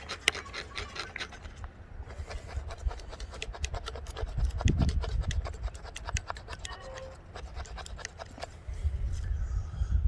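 Condor Swamp Romper knife blade scraping hardwood to shave off tinder, a series of quick, close rasping strokes in an uneven rhythm with brief pauses, fairly quiet and with no talking.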